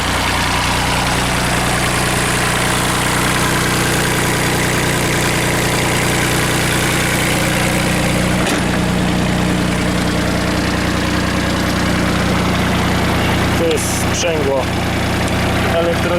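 A Weidemann Job-Mann mini loader's engine idles steadily and loudly up close, a continuous low vibrating drone with a few brief knocks and rattles near the end.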